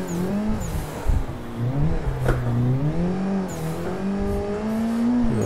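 A 333 hp Nissan 180SX drifts in a racing video game, its engine droning steadily with rising and falling revs through a smooth, sustained slide, close and loud with no talk.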